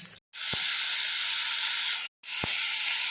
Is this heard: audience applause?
no